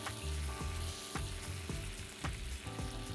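Oil heating in a pan sizzles and crackles continuously in a home kitchen while Afghani tangdi chicken is being cooked, with a close, steady frying hiss and a few soft clinks or stirs.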